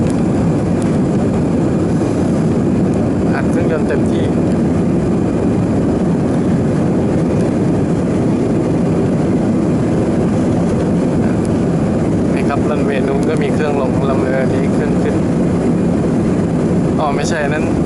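AirAsia jet engines at full thrust during a night takeoff from Don Mueang airport, heard from inside the cabin as a loud, steady roar that persists throughout, with some faint talk over it.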